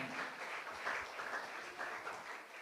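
Church congregation clapping hands together in thanks during a Tamil worship service, a soft, fairly distant wash of applause that swells and fades in waves.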